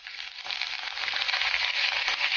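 Curry leaves crackling in hot oil for lemon rice, a steady bright sizzle close up, rising slightly and continuing throughout.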